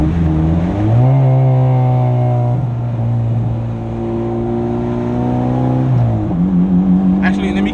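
Turbo Honda Civic Si accelerating through gears during a rolling anti-lag test, loud steady engine drone rising in pitch with shifts, heard from inside the car while a person talks over it.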